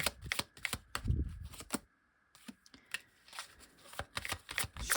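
Tarot cards shuffled and drawn by hand, a quick series of close, crisp riffling and snapping flicks broken by a brief pause, quiet and with no talk.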